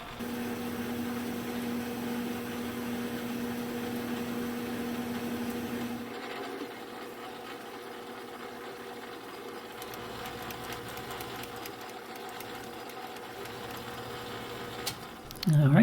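A metal lathe faces off a heavy fly cutter part, giving a steady mechanical hum and drone that shifts to a quieter, rougher tone partway through as the cut proceeds, with a brief louder clatter at the very end.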